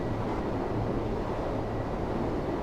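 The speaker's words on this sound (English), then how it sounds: "It's also very, very, very windy." Steady, loud wind rushes and buffets continuously outside a train in the video game Train Sim World 3, a dense roaring whoosh with no pauses.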